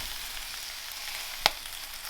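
Steady, soft sizzling of bread frying in a large frying pan, close up, with one sharp tap partway through.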